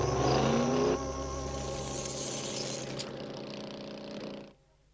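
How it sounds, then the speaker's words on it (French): Tired, struggling engine of a cartoon van revving, a rough whining drone that shifts down after a second, labors on, then cuts out into near silence. "Ah, le moteur est trop fatigué."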